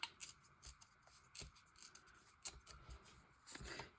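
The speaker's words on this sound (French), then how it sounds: "Je vais venir déchirer ce petit morceau ici." A small piece of paper being torn for a collage, heard as quiet, close scratchy rips and rustles in short irregular bursts with no talking.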